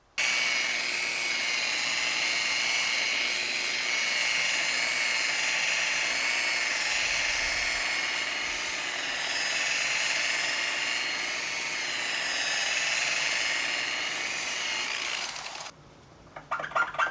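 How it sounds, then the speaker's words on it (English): An electric car polisher buffs the paint of a Porsche 911, a steady, close high-pitched whine that drones on evenly before cutting off near the end with a few clunks. "I pretty much had to go and get a different polisher because the one I was using must have been old"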